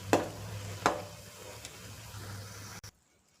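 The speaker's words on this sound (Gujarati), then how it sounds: "ઘી એડ કરી અને મિક્સ કરી દેવાનું છે." Ghee is stirred into roasted broken wheat for sukhdi sweetened with jaggery, with a few distinct scraping strokes of a spoon against the pan over a low, steady sizzle. The sound ends abruptly.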